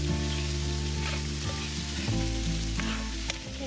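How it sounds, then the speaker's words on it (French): Potatoes and onions, lightly smoked, simmer in olive oil, giving a steady close sizzle and bubbling frying noise with a few soft stirring knocks, continuous throughout with no talking. "Qu'est-ce que vous avez mis là, à mijoter là?"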